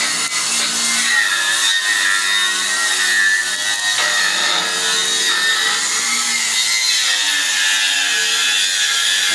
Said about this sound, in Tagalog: Gamit yung ano, Inco grinder